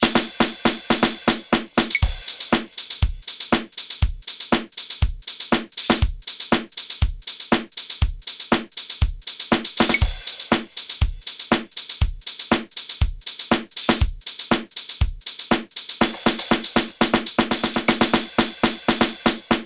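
A steady, punchy drum groove with heavy kicks and bright cymbals, saturated through an analog API EQ, thick in tone, playing alone at a driving tempo for the whole stretch.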